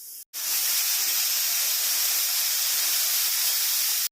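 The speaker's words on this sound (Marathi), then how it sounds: "आता आपण 2 शिट्या करून घेऊया. छोले चांगले शिजतील." A pressure cooker on a fast gas flame whistles while cooking chickpeas for chole, a loud continuous steam hiss that starts abruptly, holds steady for nearly four seconds and cuts off sharply.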